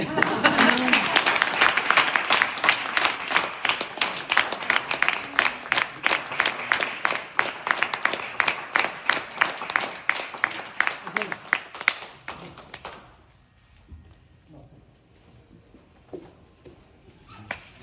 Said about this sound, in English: So I request you to clap well.